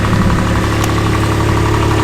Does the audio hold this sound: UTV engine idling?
yes